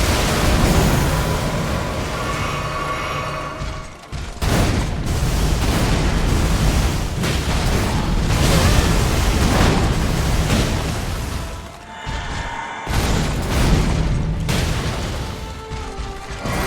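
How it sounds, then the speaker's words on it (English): Explosion in the video game Elden Ring, heavy booming, rumbling blasts that fill the sound loudly and continuously, with brief drops around a third and two thirds of the way through before the roar resumes. "Explosion time?"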